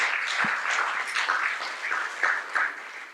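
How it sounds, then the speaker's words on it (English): Attendees at a meeting with government ministers give a brief round of applause: moderate, rapid clapping from a small group, fairly close, lasting a few seconds. "I do want to give them a round of applause too"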